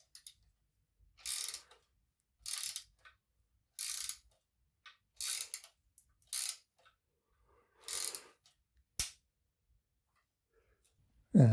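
A spanner turns a 3D printed bearing press tool while mountain bike suspension bearings are being replaced, making about seven short bursts of close ratcheting clicks separated by quiet pauses.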